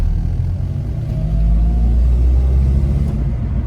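A cold car engine pulls in third gear at about 20 km/h, giving a loud, steady low rumble that rises gently as the throttle is pressed, heard from inside the car with no talking.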